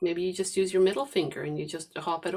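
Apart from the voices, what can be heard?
No everyday noise stands out behind the speech.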